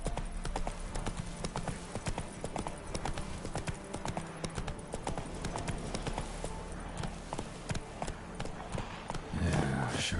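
Horse hooves from The Witcher 3 clip-clopping in a quick steady rhythm, close and continuous for the whole stretch, with a brief louder rustle near the end.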